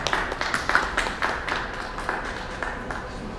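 An audience gives a brief, sparse round of applause welcoming a Hyundai interior design researcher at the Genesis G80 Sport launch presentation; the scattered claps are fairly faint and taper off within a few seconds.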